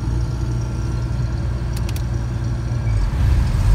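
A Case IH combine harvester, just repaired, runs its rotor with a loud, steady, low mechanical rumble that builds slightly near the end. Nearby machinery hums under it.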